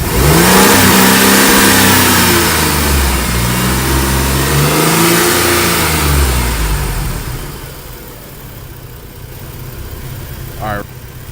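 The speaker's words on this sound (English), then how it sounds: "It should give me a reading after I rev my engine." An MDX car engine is revved during an alternator output test. It swells up and down through two loud revs, then drops to a softer idle, heard close by with a brief sharp noise near the end.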